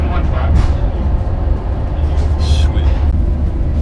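An Amtrak train numbered 715 rumbles steadily from inside the car, a loud continuous low roar with rattling and occasional hissing bursts, with a voice speaking over it.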